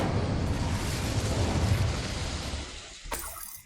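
Incendio fire spell cast in Hogwarts Legacy, a loud rushing roar of flame with a booming low end that swells then fades, followed by a brief sharp burst near the end.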